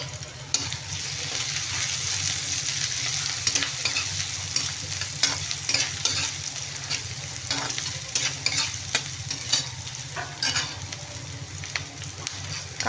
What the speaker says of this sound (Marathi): कांदा आपल्याला लालसर होईपर्यंत भाजून घ्यायचा आहे.